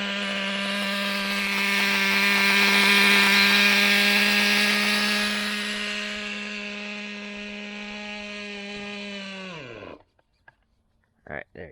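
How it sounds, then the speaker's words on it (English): A Traxxas T-Maxx 2.5 nitro RC truck engine idles loud and steady with a buzzing harmonic whine, then sputters and cuts out as it runs dry of fuel, leaving near silence and a few small handling clicks. "I'm just gonna kind of let it just idle itself out of gas"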